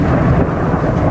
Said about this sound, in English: there's a thunderstorm up here as well